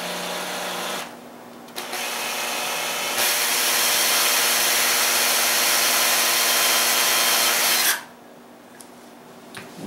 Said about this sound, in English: And then let's go ahead and drill.